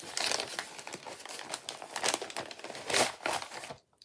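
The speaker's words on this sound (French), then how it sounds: "on découvre ce qu'il y a dans ce petit paquet" A small gift package is unwrapped close up, its wrapping paper crinkling and rustling continuously in dense crackles with a few louder crunches, then falling silent at the end.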